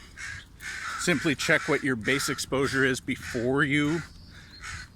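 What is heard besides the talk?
crow cawing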